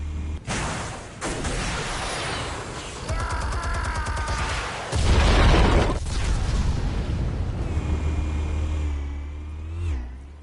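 Explosives detonating in Batman: The Telltale Series, a series of loud booming blasts and rumbling bursts with sharp cracks layered over game sound effects and music.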